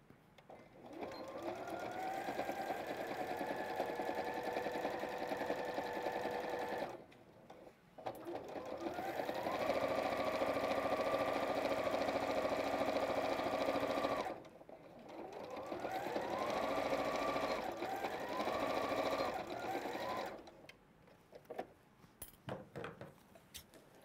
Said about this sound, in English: I'm just going to sew this together down the sides.